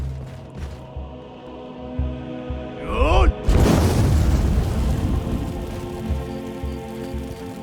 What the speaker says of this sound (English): Fire breath. There we go.